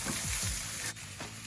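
Corned beef hash fries in a pan, giving a continuous close sizzle with a few low scraping stirs near the start; no one speaks.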